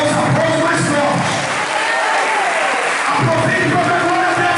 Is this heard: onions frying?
no